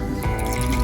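A small amount of water poured into a small cooking pot while a simple dish simmers, heard as a short dripping, trickling splash over a steady background hum.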